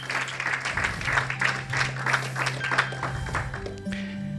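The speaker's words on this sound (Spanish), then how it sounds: "¿Hay alguien que puede dar un aplauso a la palabra de Dios?" A church congregation claps in a burst of applause, rhythmic hand claps that fade as a sustained musical tone comes in.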